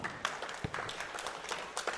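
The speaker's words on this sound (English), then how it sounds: "Give him a clap" A small group of people at youth basketball practice claps for a player, a short, loose burst of scattered handclaps at moderate distance, fairly faint in a gym-like space.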